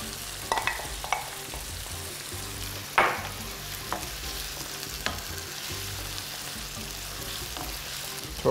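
Vegetables fry in a pan with salt and pepper, a continuous close sizzle broken by a few sharp clinks and scrapes of stirring, with no talking.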